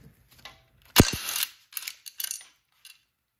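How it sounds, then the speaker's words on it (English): Impact gun during timing plug and parking brake delete work, giving a sharp close burst of rattling hammering followed by a few shorter clicks and ratchety clatters, with quiet gaps between. "So there you go with the impact gun."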